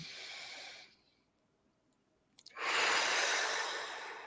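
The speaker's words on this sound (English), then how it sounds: "Close your eyes, take a deep breath." A slow, deep breath drawn in calmly, with a soft breathy hiss, a quiet pause with faint mouth clicks, then a long, louder exhale close to the listener.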